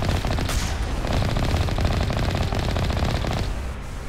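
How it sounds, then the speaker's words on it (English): Enemy gunfire in the Mass Effect Legendary video game, a loud sustained burst of rapid automatic shots that rattle on for about three seconds before tapering off. "Oh, they're shooting at me."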